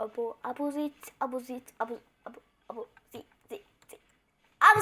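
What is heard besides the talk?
No everyday noise stands out behind the speech.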